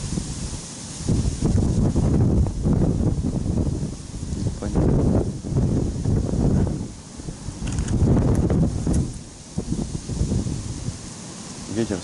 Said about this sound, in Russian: Непонятно. Ветер страшный.